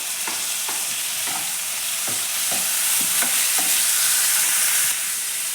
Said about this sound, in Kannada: ಈರುಳ್ಳಿ ಸ್ವಲ್ಪ ಕೆಂಪಗೆ ಫ್ರೈ ಆಗಬೇಕಿದು.